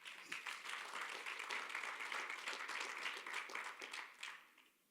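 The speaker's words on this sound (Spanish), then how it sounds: "Dale un aplauso al Padre." A church congregation applauding a pastor: dense, steady clapping from many hands that holds for several seconds, then fades out near the end.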